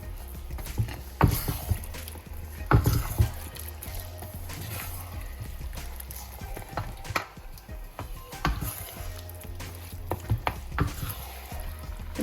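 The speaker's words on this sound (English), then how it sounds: "So I'm just going to let this to fry a bit" Dry fish frying in a palm oil stew, a low sizzle broken by irregular knocks and scrapes of a utensil against the pot, fairly quiet and close.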